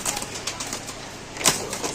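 A large racer pigeon held up in someone's hands gives a few brief, soft coos and rustling flutters, close and quiet with no talking.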